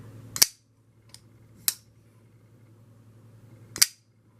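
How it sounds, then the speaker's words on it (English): A folding knife with a hard detent flips open in three sharp, crisp metallic clicks spaced apart in a quiet room, plus one fainter tick between the first two. "I'm just going to flip it a few more times."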